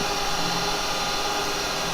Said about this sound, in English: I'm not slowing the lathe down to drill this because it's just a small drill bit